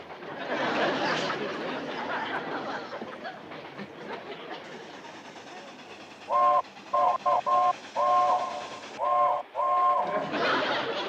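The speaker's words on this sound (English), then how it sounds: "What kind of a railroad signal's that?" A train whistle sounds in a series of short and long blasts over the rumble and clatter of a moving train, loud and close.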